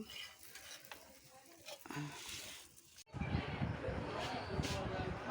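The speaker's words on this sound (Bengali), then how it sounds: "পরোটাগুলি বানানো হচ্ছে ভাজা হয়ে গেছে পরোটা" Paratha fries in a pan on a home stove, with stirring and scraping at first, then a loud, steady sizzle that swells in the second half while voices murmur faintly.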